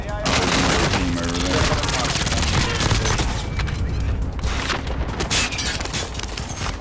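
Sustained gunfire in the battle royale shooter Warzone: rapid automatic bursts and booming shots come from several directions at once, loud and continuous, with voices talking over the shooting.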